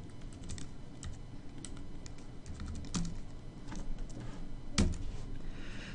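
Someone types on a computer keyboard while entering equations in Microsoft Word 2010, producing quick irregular clicks and key taps with a couple of louder strikes, close up and alone with no talk.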